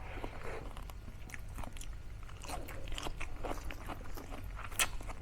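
Close, crisp crunching and biting on fried chicharon bulaklak pork crackling, eaten by hand at a mukbang, with repeated irregular crackly bites and chewing.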